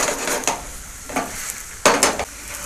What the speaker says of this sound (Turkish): Altı yavaş yavaş kızarmaya başladı.